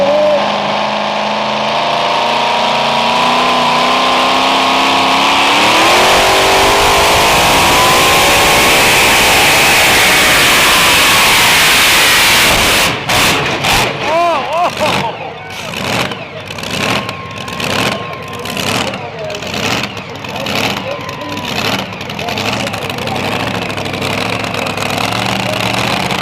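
Supermod pulling truck at a truck and tractor pull in Melbourne, Ontario, its engine roaring loudly and steadily, then breaking into a rough, pulsing rumble as the run goes on.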